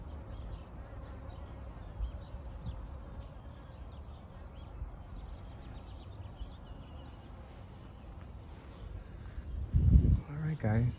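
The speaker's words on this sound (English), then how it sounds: "The bees are so loving this." Bees buzz around spring garden flowers, a soft, steady hum close by under low background noise, with a louder rustle near the end.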